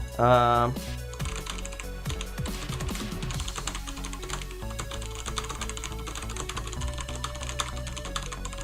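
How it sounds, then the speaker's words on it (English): Rapid, clicky typing on a Logitech G710+ mechanical keyboard, close and steady, with a brief synth-like tone at the start. "It actually sounds like a mechanical keyboard, because that's what it is"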